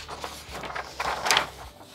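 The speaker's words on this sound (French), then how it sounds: "Je suis désolée pour le bruit du papier." Crisp crinkling and rustling of pattern paper being handled and folded while drafting a raglan sleeve pattern, close by, in several short bursts with a louder crackle near the end.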